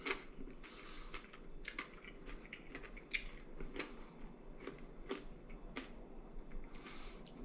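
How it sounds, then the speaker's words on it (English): Crisp, crackly bites into the crunchy skin of Hong Kong-style crispy pork belly seasoned with five spice, a quiet series of close, sharp crunches in irregular rhythm with no talk. "Perfect crunchy skin."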